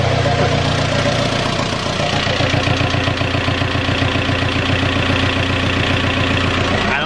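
A mechanically injected turbo diesel Jetta engine runs steadily at idle, a loud continuous clatter with a rhythmic low pulse filling the whole clip, close by.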